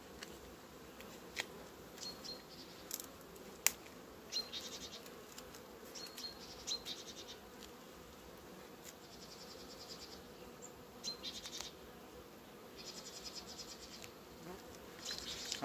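Honeybees hum steadily in an opened hive during a spring inspection of a strong colony, a constant mid-pitched drone with occasional sharper buzzes and light clicks close by, no talking.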